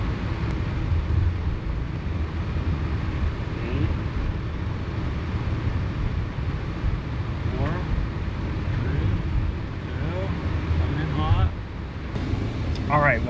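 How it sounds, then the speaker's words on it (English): Repaired car with automatic transmission in manual shift mode, driving on a street and shifting through the gears, heard from inside as a steady low road and engine rumble with wind noise, while a person talks over it. "It's shifting through all the gears just fine."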